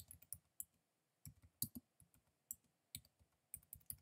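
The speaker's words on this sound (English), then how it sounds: "Typing it there." Someone types text on a computer keyboard in quiet bursts of crisp clicking keystrokes separated by short pauses.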